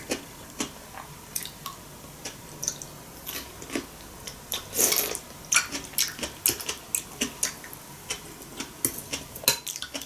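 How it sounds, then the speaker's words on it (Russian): A spoon scrapes mashed potato and salad from a dish, with repeated close clinks and scrapes in an irregular rhythm alongside soft chewing and handling sounds. "Наверное, надо тут ложкой добирать."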